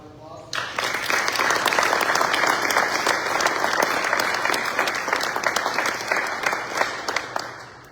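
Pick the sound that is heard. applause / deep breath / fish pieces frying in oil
applause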